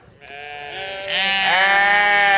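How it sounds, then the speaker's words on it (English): Lambs bleating out in a field, several overlapping harmonic calls that grow louder and fuller partway through, close and clear with no talking. "This is where you will see your first lambs out in this field."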